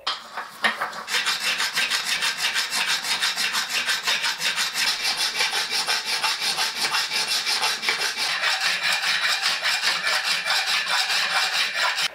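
A hand file rasps over the inside seam of a metal part on a homemade 2x72 belt grinder, in steady back-and-forth strokes kept up without a break, close and moderately loud with no talking.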